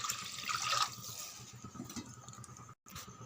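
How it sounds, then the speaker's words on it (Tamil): Water poured from a tumbler into a pot for South Indian tomato rice: a fairly quiet rushing splash at the start that fades into softer trickling, with a brief dropout near the end. "இந்த டைமில் நம்ம தண்ணி விட்டுடலாம்"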